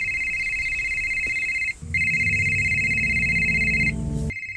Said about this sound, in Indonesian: Tiba-tiba sebuah ponsel berbunyi.